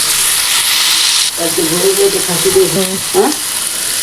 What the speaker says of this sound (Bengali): আমি এগুলোকে ভেজে নিচ্ছি